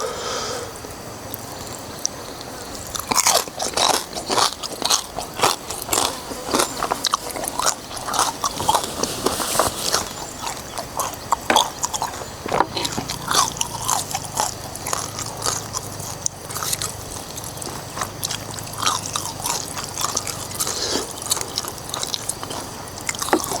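Someone bites and chews crispy pork with a spicy tam sua noodle salad close to the mic, giving repeated crunchy, crackling bites and wet, slurpy chewing in an irregular rhythm with no talking.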